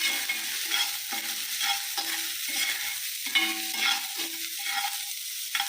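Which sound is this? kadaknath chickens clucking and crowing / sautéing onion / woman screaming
sautéing onion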